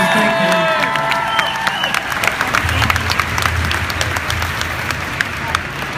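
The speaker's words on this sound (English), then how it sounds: "please give these guys a round of applause" A convention crowd applauds and cheers guests at a Breaking Bad panel, with dense clapping, whoops and shouts filling the room, and voices briefly heard at the start.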